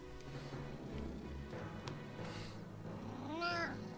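A cat meows in the Valkyria Chronicles 4 video game, one clear, rising-and-falling meow near the end over a soft, steady background hum.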